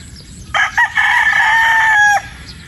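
A sweater gamefowl rooster lets out one loud, close crow, a brief opening note followed by a long sustained call that ends abruptly, with no talking.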